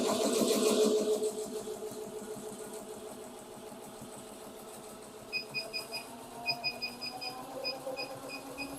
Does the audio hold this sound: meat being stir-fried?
no